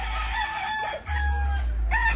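A home-bred rooster crows loudly and close by, a single drawn-out call with a brief break midway, with no one talking.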